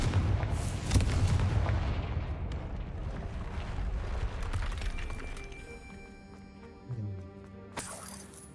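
Confringo explosion spell cast in Hogwarts Legacy, a sharp booming blast followed by a rumbling decay under ambient game sounds, then scattered lighter effects and a short chime near the end.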